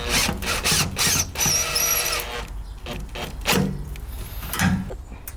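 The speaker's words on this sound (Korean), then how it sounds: "예, 볼트 너트로 다 판과 판을 연결하도록 하겠습니다." Bolts and nuts being tightened to join panels during landscaping construction, heard as clicking metallic ratchet and tool sounds in irregular bursts, fairly close, with a quieter stretch toward the end.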